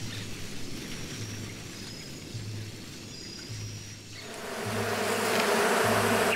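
Steady buzzing of honeybees foraging around a cornfield in a Mayan farming and beekeeping setting, a dense insect drone close by that swells louder toward the end.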